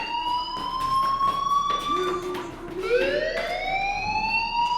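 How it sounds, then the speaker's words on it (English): A fire alarm blares in the video game Life is Strange, a loud wailing siren-like tone that holds steady and then sweeps upward, continuing alone without speech. "Hey, do you hear that fire alarm? That means you should be outside."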